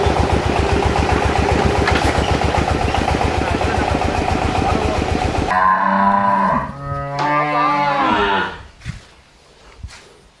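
A bull and other cattle at a farm after being brought from Gasline Animal Market, lowing loudly over a steady idling engine for several seconds, then a few long, close moos with pauses as the engine noise drops away.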